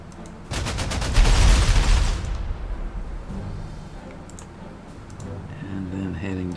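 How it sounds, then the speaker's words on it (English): Strafing gunfire from the war strategy game Panzer Corps 2 crackles as a loud rapid burst of shots, followed by quieter clicks and game effects. "see about strafing that unit"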